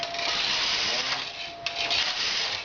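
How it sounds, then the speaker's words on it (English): A Singer double-bed knitting machine carriage is pushed across the needle beds to knit rows in e-wrap, giving a continuous near rasping, sliding whirr with a brief clack partway through. "And then I'm going to knit 3 rows, and every third row I'm going to increase at the end."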